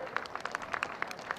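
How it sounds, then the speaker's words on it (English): Spectators clap for the winner of the 2020 Signrite Hobart Gift footrace, a brief patter of scattered applause heard from a distance without talk. "Big round of applause to the winner of the Signrite gift of 2020, Moses Kasif."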